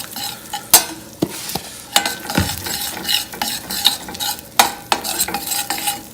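About two tablespoons of fat melt into ingredients in a pan for a chicken and cabbage salad, sizzling loudly under repeated clattering stirs and utensil scrapes against the pan, close and busy, with no voices.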